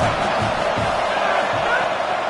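Steady roar of a packed stadium crowd in the College Football 27 video game, a continuous broad wash of noise with occasional thuds beneath, loud and unbroken for the whole moment.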